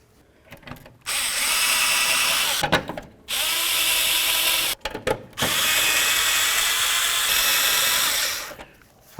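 Power drill driving screws into a 1992-99 GMC K1500 headlight assembly: three long, loud whirring bursts separated by brief clicks and handling noises, close up.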